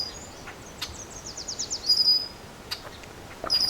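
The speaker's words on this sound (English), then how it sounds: "This red-winged blackbird" A red-winged blackbird calls along a tree-lined rail trail, a faint, high buzzy trill with a few scattered chirps over a steady hiss of outdoor background noise.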